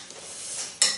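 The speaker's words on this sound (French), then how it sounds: "je mélange tout ça" Spoon stirring gazpacho ingredients, radish, oil, salt and cayenne, in a bowl, a soft brief swish that ends in a sharper clink against the bowl.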